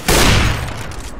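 A single loud, close burst of pistol fire in an online shooter video game, sharp onset followed by a short booming decay with no voices.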